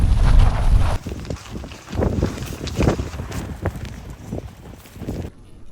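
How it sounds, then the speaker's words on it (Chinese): Strong wind blowing around a tent pitched in an abandoned hut during a stormy night in Inner Mongolia, loud rushing gusts buffeting the microphone in uneven surges before dropping away. "刮着大风"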